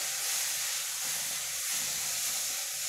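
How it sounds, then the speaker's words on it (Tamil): Mudakathan herb leaves sizzle steadily in hot oil as they are turned for a herbal rasam, a continuous close frying hiss with no talk. "சும்மா சுருடுற இந்த எண்ணெயில் ஒரு புரட்டு புரட்டி விட்டுடலாம்"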